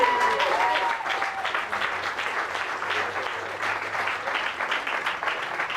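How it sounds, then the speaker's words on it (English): Audience applause at the Irish Times FUSION 2013 grand finale for second-place winner GetHealth, steady dense clapping filling the room throughout, with a faint voice briefly at the start. "Give them a big round of applause."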